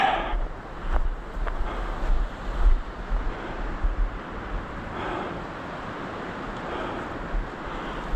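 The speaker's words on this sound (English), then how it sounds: "You can hear that wind." Steady wind gusting through snowy woods during a winter hike, a broad continuous rushing with some microphone buffeting, loudest early and settling into an even roar.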